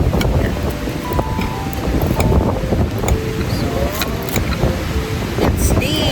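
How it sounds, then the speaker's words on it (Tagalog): Strong beach wind buffets the microphone in a loud, constant roar on the coast of La Union, with faint voices partly buried beneath the gusts. "Kasi sobrang lakas talaga ng hangin."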